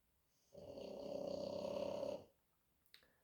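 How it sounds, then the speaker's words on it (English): A dog snores once in a long, rasping rattle lasting under two seconds, close and alone in a quiet room, with a small click just after. "Why is my dog snore so fucking much, man?"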